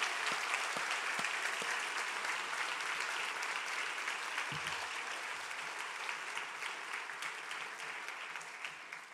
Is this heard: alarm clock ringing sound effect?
no